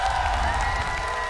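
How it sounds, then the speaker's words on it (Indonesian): Crowd applause and cheering fill MPL Arena at a mobile esports match, a steady dense wash of clapping from a large audience, moderately loud and continuous across the short stretch. "mana tepuk tangannya?"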